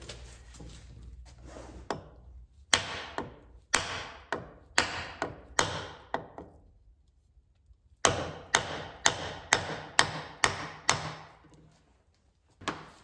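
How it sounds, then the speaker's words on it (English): Repeated sharp wooden knocks as a hardwood block hammers down a vintage double-bit axe head, in two bursts of steady strikes, about one or two per second, loud and close with a pause between. "take a piece of hardwood or a 2x4 or something, and then start hammering down pretty good"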